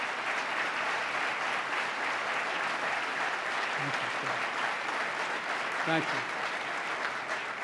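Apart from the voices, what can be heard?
audience applause for the Islanders owners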